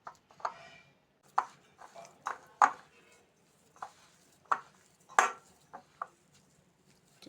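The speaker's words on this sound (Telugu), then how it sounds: "కొంచెం బాగా మిక్స్ అయిన దాకా కలుపుకుందాం." Spicy masala for stuffed eggplant fry being mixed in a bowl: close, irregular taps and scrapes spaced a second or so apart, with no talking.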